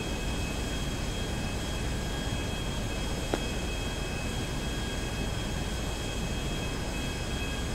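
A steady, loud airplane engine drone at a video game airport fills the whole stretch, a constant broadband roar with a faint tonal whine and one brief click partway through.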